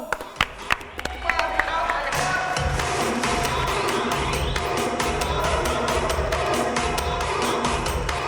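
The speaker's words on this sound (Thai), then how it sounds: "ขอเสียงปรบมือต้อนรับลิซ่าครับผม" An audience bursts into applause to welcome Lisa on a Thai TV variety show, starting with a few scattered claps, then swelling into dense, sustained clapping and crowd noise under talk.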